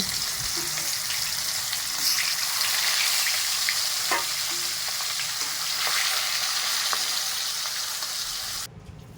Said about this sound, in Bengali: এইভাবে বাকি মাছগুলোও ভেজে নেব।